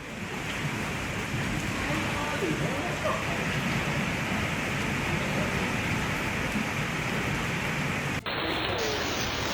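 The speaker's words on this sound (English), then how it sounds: "Huge hailstones pounded the area right in front of the Australian Parliament House in Canberra" Huge hailstones pounding the ground outside Australian Parliament House in Canberra during a hailstorm, a dense, loud, unbroken roar of impacts that drops off abruptly near the end.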